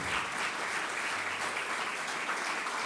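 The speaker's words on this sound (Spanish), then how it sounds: "Aplaudí bien fuerte porque es merecedor de toda gloria" A church congregation claps loudly and steadily throughout, a dense, continuous wash of applause with no voices breaking through.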